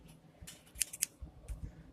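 A few quick snips of scissors close by cutting tags off a stuffed toy horse, two sharper clicks in the middle among soft rustling and handling noises.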